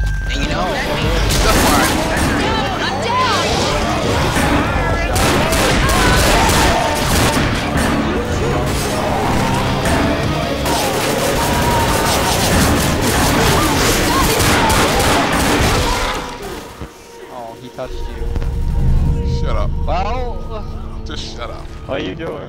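Heavy rapid gunfire in the Left 4 Dead video game, a loud continuous fusillade of shots and crashes for about sixteen seconds, then a drop to quieter rumbling, with people talking over it.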